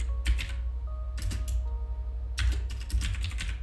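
Fingers type on a computer keyboard while text is entered into a Word document, three short bursts of quick, close key clicks over a low steady hum, with no speech.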